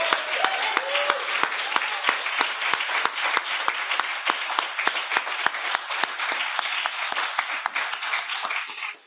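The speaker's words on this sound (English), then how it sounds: "a round of applause for Lorena, of course, our great organizing general manager." An audience at a creative writing pedagogy event gives a round of applause for the organizing general manager. The clapping is sustained and full, with sharp individual claps standing out. Brief voices are heard at the start, and the applause fades at the end.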